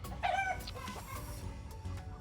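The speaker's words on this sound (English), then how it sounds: "My rooster, Rocky, is going to interrupt, of course." A backyard rooster lets out a short, high cluck near the start, then quieter scratchy rustling and ambient outdoor noise fill the rest of the brief moment.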